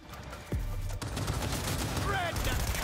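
Rapid gunfire from weapons in Cyberpunk 2077 Phantom Liberty, a video game: a dense, loud burst of shots that keeps going almost without a break, with a voice talking over it.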